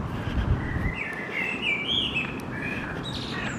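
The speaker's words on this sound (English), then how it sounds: "just shut up a minute so you can hear the birds." Several birds sing and chirp in a woodland park on a warm day, bright warbling phrases rising and falling over steady low background rumble, moderately distant with no talking.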